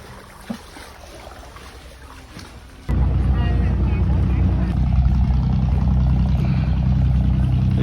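A boat on the Mekong River in Vietnam sits quietly at first, then its motor kicks in partway through and holds a loud, steady, close rumble with wind buffeting.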